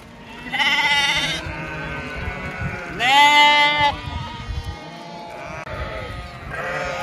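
Sheep bleat loudly several times, drawn-out wavering calls close by, with quieter bleats from the hungry flock between them and some background rustle, near a reservoir on barren land.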